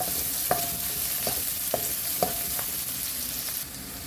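Onions frying in hot oil in a pan, a steady sizzling hiss with a few sharp stirring scrapes and clicks spaced through it, close and moderately loud, no voices.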